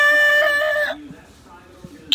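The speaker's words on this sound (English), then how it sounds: "rooster." A single rooster crows once in a bright, strained call for almost a second, close and loud, then cuts off into near silence.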